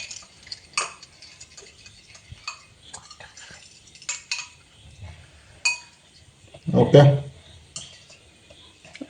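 A knife cuts a pressed cheese toast into four pieces, making scattered clinks and taps against a plate, with one fuller scraping thud midway. A person speaks briefly.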